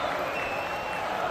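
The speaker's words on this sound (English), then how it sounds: "he was just applauding them" Hull City football fans applauding in a stadium, a steady, distant wash of clapping and crowd noise with commentary talk over it.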